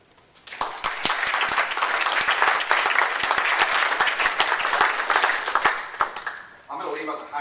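Audience applause for a speaker being introduced at a public defenders media training event, sharp individual claps building quickly into sustained clapping that fades out, followed by a voice beginning to speak.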